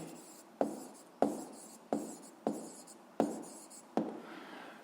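A pen writes on paper in short strokes, about seven distinct scratchy bursts each starting with a tap of the tip, close and quiet with no talking.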